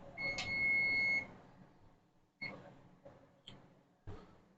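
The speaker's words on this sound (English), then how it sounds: "All right, that timer has gone off." A kitchen timer beeps once in a bright sustained tone during pasta salad cooking, followed by a few sparse clicks and clatters of kitchen handling.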